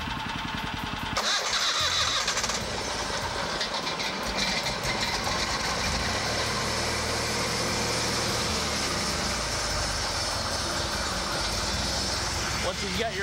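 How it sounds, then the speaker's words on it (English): Engine of a TimberKing B-20 bandmill cranks and catches, then settles into a loud, steady running roar close by for the rest of the clip. "Once you've got your engine started,"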